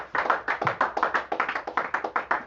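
A church congregation claps together in a steady, rhythmic beat during worship, about two claps per second, sustained without pause and with no voices.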